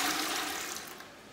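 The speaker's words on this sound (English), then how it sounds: "we proceed now to flush the toilet" A toilet flushes after being unblocked, a loud close rush of water that slowly fades over its short length.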